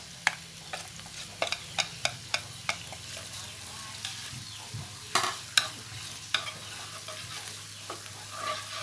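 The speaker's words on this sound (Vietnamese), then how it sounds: "Mình sẽ để dưới đây mình xào ha." Marinated mushroom stems are stir-fried in a pan, with a steady soft sizzle broken by sharp scraping clicks of a utensil stirring against the pan.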